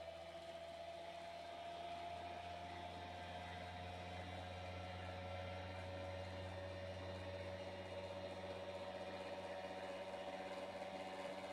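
A low-cogging rotor in an energy research project spins up with its load removed, giving a faint, steady electric hum with a constant tone and a slight rise in pitch and level early on.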